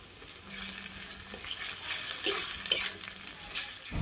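Chopped onion and ground garlic fry in a pan with a bay leaf for a chicken and potato curry, an even close sizzle with spoon scrapes and clinks scattered throughout.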